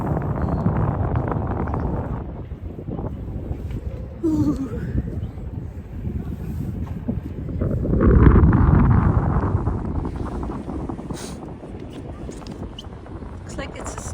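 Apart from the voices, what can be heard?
wind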